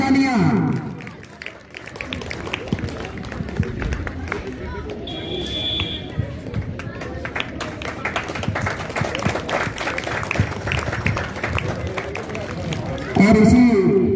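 A crowd at a school Republic Day ceremony claps loudly, with dense, sustained applause filling most of the stretch and a brief electronic tone near the middle, framed by a voice at the start and end.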